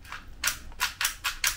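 A realistic toy Glock pistol fires with blowback action, giving four sharp, close cracks at uneven intervals with short gaps of quiet between them.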